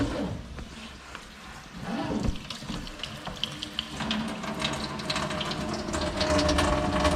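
Water runs from a newly installed kitchen sink faucet, a steady rushing hiss into the basin that builds and grows louder toward the end, with light clatter early on.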